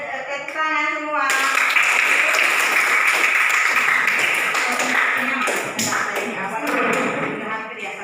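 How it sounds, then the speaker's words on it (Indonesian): A class of high school students claps together in a room, a dense, sustained burst of many hands that starts abruptly, holds steady for several seconds and thins out toward the end, with voices mixed in. "Oke, tepuk tangan semua"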